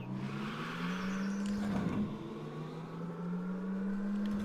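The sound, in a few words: car engine driving in LittleBigPlanet video game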